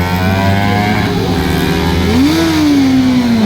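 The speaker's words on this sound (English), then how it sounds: "Brother and sister racing, R1 and Ninja 250." Engines of a Yamaha R1 and a Kawasaki Ninja 250 at a drag strip, a sustained loud roar with one engine's pitch sweeping upward as it revs, then holding high and slowly easing down.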